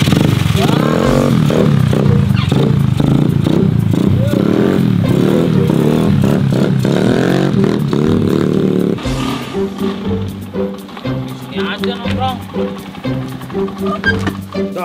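A drag-racing motorcycle carrying a passenger in an animated scene pulls away with a loud, steady engine roar that drops to an uneven, rising and falling growl partway through.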